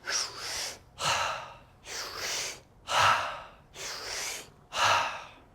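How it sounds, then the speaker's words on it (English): Deep, rapid holotropic breaths alternate between forceful inhales and exhales in an even rhythm, six strong pulses about one second apart, close to the microphone. "holotropic breath makes your energy spiral up"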